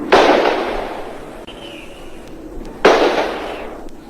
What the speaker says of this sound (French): Des coups de feu qui partent, on ne sait pas pourquoi, on ne sait pas sur qui.